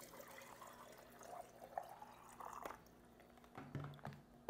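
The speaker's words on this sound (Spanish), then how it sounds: "Entonces vamos a echarle agüita aquí." Water is poured into a portable silicone electric kettle, a faint, soft trickle with a few small splashes close by in a quiet room.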